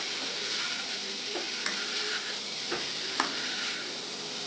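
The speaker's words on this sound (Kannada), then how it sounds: "ಹಾಕಿ ಚೆನ್ನಾಗಿ ಮಿಕ್ಸ್ ಮಾಡಿ ಹೀಗೆ ಚೆನ್ನಾಗಿ ಎಲ್ಲ ಕಡೆ ಮಸಾಲ ಹೋಗೋ ಥರ ಮಿಕ್ಸ್ ಮಾಡಬೇಕು" Fried jackfruit cubes stirred with masala in a pan, a steady soft sizzle with occasional spoon scrapes and light taps against the metal, close and without talk.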